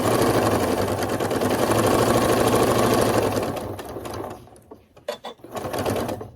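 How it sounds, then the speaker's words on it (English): A sewing machine runs steadily at speed, stitching down the binding on a baby quilt, then slows into a few short bursts before one last run; loud, close and continuous, with no voices. "So I'm going to go ahead and sew down"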